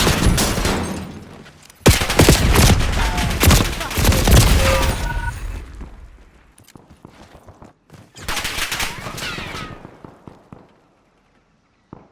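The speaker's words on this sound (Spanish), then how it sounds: "¡Me dispara!" Loud bursts of video game gunfire on an Xbox Series X, with rapid volleys and explosive cracks in two main clusters separated by a quieter gap, fading into near silence at the end.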